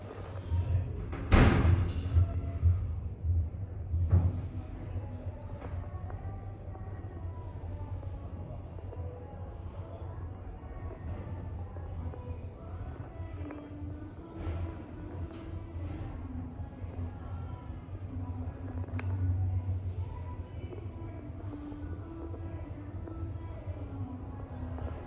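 A hydraulic elevator car in a London shop rises with a low, steady rumbling drone that lasts throughout. A sharp knock sounds early on, with a softer thud shortly after, and quiet mechanical creaks drift over the hum.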